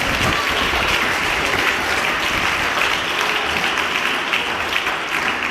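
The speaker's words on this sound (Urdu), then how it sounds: "اس بات کے لیے بھی زوردار تالیاں۔" A seated audience at a religious talk breaks into loud, dense clapping that holds steady for several seconds, close and uninterrupted, with no speech over it.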